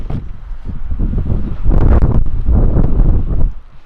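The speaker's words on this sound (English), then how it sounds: "It's kind of windy." Gusty wind buffets the microphone in rough low rumbles, swelling stronger midway before easing off.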